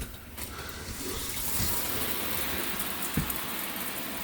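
Water rushes steadily through RV plumbing lines as diluted bleach water is flushed through the system, a continuous close hiss with a brief knock near the end.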